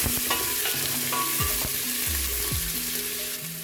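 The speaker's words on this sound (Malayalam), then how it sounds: "ഇതിലേക്ക് നമ്മൾ നീളത്തിൽ അരിഞ്ഞ് വെച്ചിരിക്കുന്ന 2 സവാള ചേർത്ത് കൊടുക്കാം" Long-sliced onions frying with fennel, cinnamon and cloves in a pan for mutton biryani, a steady close sizzle with scraping stirs, no voices.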